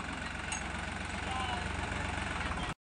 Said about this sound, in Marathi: ट्रॅक्टर बघा ट्रॅक्टर.